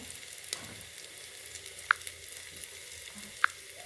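Turmeric, dried chilli powder and ground coriander-cumin paste sautéing in hot oil for chicken, a faint, soft sizzle with two sharp spoon clinks against the pan.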